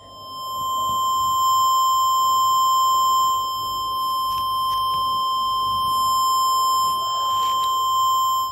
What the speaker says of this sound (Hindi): इस माइक को मैं हेडफोन के पास ले जा रहा हूँ, तो आपको ये बीप सुनाई देगा इसमें